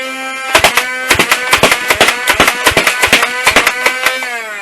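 Rapid bursts of foam darts fired from a Big Power Electric 532, a rev-trigger flywheel blaster in semi-auto, with sharp, evenly spaced shots over a steady motor whine, loud and close, and no talking.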